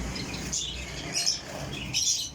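Pigeons being caught and handled at a bird trader's, wings beating in a few quick flurries near the microphone over steady background noise, with short squawks among them.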